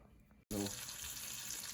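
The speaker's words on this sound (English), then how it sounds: "you can see it's kind of like sizzling now" Outdoors on the Vermilion River in Minnesota, after a brief silence, butter sizzles loudly in a frying pan for cooking trout, with a steady crackling hiss.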